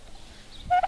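A turkey hen at an animal sanctuary gives a short, loud gobbling burst close by, following a brief quiet lead-in.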